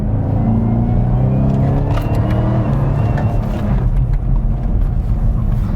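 A fast car accelerates hard, its engine a loud, sustained roar that stays strong across the whole stretch with no break.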